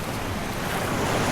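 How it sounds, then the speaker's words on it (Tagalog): Sea waves break near a Palawan campsite, a brief, steady rush of surf mixed with wind buffeting the microphone, loud and close. "Uy, maalon!"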